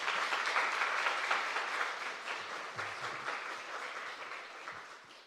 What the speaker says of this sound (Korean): 우리 목사님 환영한다고 우리 박수 한번 할까요?